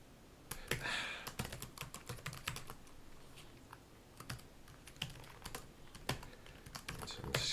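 Light, irregular clicking of keys on a computer keyboard, with short bursts and pauses, close and fairly quiet.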